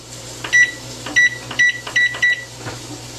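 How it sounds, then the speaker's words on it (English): A microwave oven's control panel sounding five short electronic beeps as it is set for five minutes, evenly spaced and close, over a low steady hum. "I'm going to set my oven for 5 minutes"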